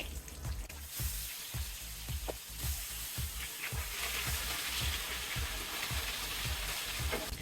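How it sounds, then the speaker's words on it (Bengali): Sarputi fish sizzle steadily in hot oil, a continuous bright crackle with soft, regular taps repeating throughout. "এক পাশ ভাজা হয়ে গিয়েছে এবার আমি মাছগুলো উল্টে দেব"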